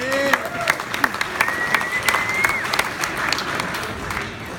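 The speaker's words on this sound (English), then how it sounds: "Round of applause for Brittany." Wedding reception guests applauding during a best man speech, a full round of clapping with sharp individual claps standing out, a voice or cheer briefly rising over the applause.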